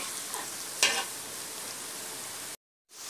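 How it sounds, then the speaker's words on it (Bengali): Onions fry in hot oil with cinnamon, cardamom and cloves for a goose curry, giving a steady loud sizzle with a brief stirring scrape partway through and a short cut to silence near the end. "তো আমি এখানে পেঁয়াজ ভাজার সাথে আমি দারচিনি এলাচি লং দিয়ে দিয়েছি"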